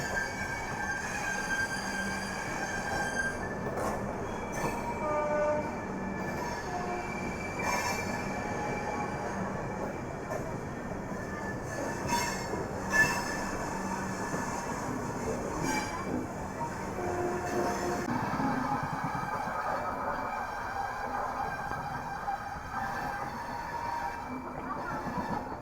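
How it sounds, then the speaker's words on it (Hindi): A long rumbling pass of a train crossing the Howrah–Titlagarh Ispat Express (Steel Express) on an Indian railway line, with rhythmic wheel clatter, rail noise and faint squeals heard from inside a moving passenger coach. "तो पहली क्रॉसिंग भाई साहब अपनी स्टील एक्सप्रेस के साथ हो गई है।"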